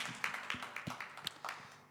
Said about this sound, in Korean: 하나님 아버지께 큰 박수로 영광 올려드리겠습니다